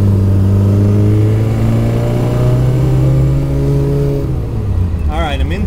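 A modified Morris Traveller with disc brakes, a power booster and a five-speed gearbox drives along with a loud, steady engine drone heard from close by. The revs then drop sharply as it shifts or lifts off.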